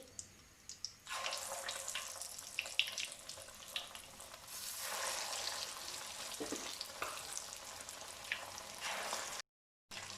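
Pieces of spicy Lahori-style fish frying in oil at home, a loud continuous crackling sizzle that surges when fresh pieces go in, alone without talk, with a brief cutout near the end.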